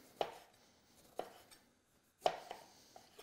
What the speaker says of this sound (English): we're just going to pop a lime that we're going to slice up